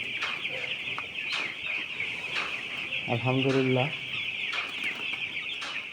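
Chickens cluck repeatedly nearby amid a constant hum in a two-storey poultry farm, with one loud cackling burst in the middle and a brief spoken word.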